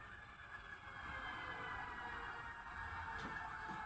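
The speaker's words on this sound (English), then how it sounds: "Of course, sirens." Emergency vehicle siren heard in the distance, a faint steady wail over low background rumble, with no talking.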